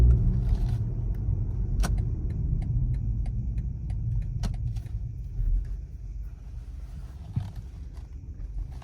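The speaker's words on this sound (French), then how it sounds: "Et on est parti pour l'essai de ce 128 Ti." A BMW 128ti hatchback with 265 horsepower out on a test drive, its engine and road rumble droning steadily from inside the cabin, with a few faint clicks and small knocks and no talking.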